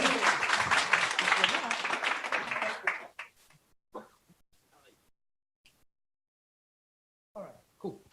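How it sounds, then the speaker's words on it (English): Audience at a London Docker meetup applauds in a dense burst of clapping for about three seconds, then fades to a few scattered claps and quiet room noise. "give a round of applause to Prasenjit."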